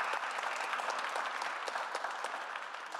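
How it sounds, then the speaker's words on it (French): Dense, steady audience applause fills a hall at a talk on Indigenous theatre, many hands clapping together at moderate volume with no voices rising above it. "il mérite une grosse main d'applaudissements pour ça"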